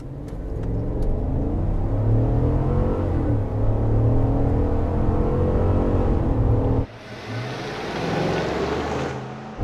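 A 2021 Chevy Tahoe High Country with a 6.2 liter V8 accelerates hard from a stop, a loud deep engine roar climbing through the revs before an abrupt drop as it shifts, then building again.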